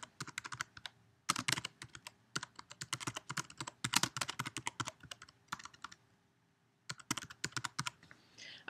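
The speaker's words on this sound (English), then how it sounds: "So I'm going to type my name and then my position." Bursts of rapid clicking keystrokes on a computer keyboard, close and fairly quiet, in uneven runs separated by short pauses while entering text.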